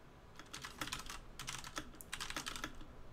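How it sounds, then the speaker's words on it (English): Rapid typing on a computer keyboard, with dense clusters of light clicking keystrokes in an irregular rhythm, fairly quiet and close, with no speech over it. "Sorry about the typing."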